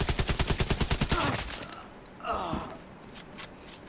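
A fast burst of automatic gunfire in a video game rattles loudly for about a second, then cuts off, leaving softer scattered noise and a breathy gasp-like sound.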